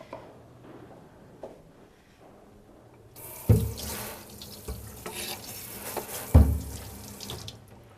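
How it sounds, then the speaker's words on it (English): A kitchen water tap runs into the sink while a chopping board is rinsed, a steady splashing stream with a couple of sharper knocks and surges, preceded by a few seconds of quieter kitchen noise. "give it a quick little rinse here"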